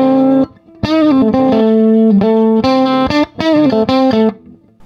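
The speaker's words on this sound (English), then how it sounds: "I'm using the same Telecaster as I was using in the reference tone on that unmodded Epiphone Valve Junior" A Telecaster electric guitar played through a modded Epiphone Valve Junior tube amp, ringing out bright, distorted chords and sustained notes with short pauses between phrases, loud and close with no talking.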